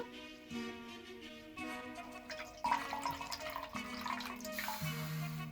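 Water running and splashing as it is poured out, a steady trickle that grows rougher partway through, faint against a low background tone.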